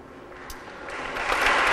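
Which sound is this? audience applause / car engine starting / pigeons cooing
audience applause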